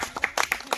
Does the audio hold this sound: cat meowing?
no